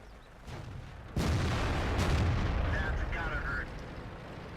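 Artillery shells from the World of Tanks video game slam down around tanks, a heavy blast bursting in after a low rumble and leaving a loud, roaring wash of debris noise that slowly tapers, with a faint voice in the background.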